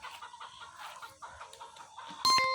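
Tiger breed chickens cluck softly and repeatedly on a poultry farm, with a sudden loud, sharp call near the end.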